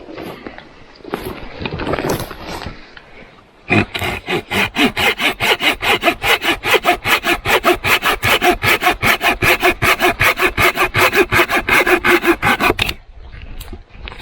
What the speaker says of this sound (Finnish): kun mä sahan tämän pois